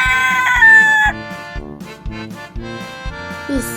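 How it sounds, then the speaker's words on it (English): A rooster crows once, loud and close, a long drawn-out call in the first second, then fades under a bouncy children's music backing with a regular beat. "This is a rooster,"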